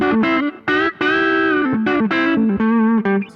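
An electric guitar played through a JHS Morning Glory overdrive pedal with the drive at 12 o'clock rings out in loud, close, sustained notes with a warm, gritty edge, changing pitch in a short melodic phrase.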